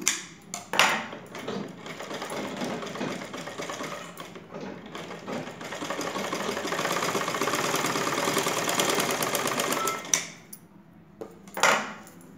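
A sewing machine stitches the cross panel joint of a blouse in one long, fast, steady whirring run, close and fairly loud, starting and stopping with short handling noises around it.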